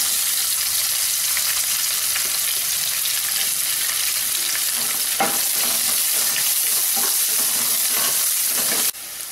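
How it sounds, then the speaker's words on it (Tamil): Onions sautéing in a pan for egg biryani, giving a loud continuous sizzle and frying hiss with occasional scraping stirs, close up. "வெங்காயம் நல்லா ப்ரௌன் கலர் வர வரைக்கும் வதக்கணும்"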